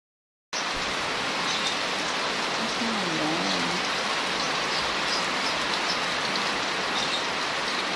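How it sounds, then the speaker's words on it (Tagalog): Heavy rain pours down in a steady, loud, unbroken hiss, with a brief faint voice murmuring underneath partway through. "lakas ang ulan"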